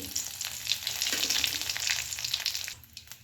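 Whole spices with Byadgi chillies sizzle steadily in hot oil in a pan, a close, continuous crackling fry with no voices, easing slightly near the end.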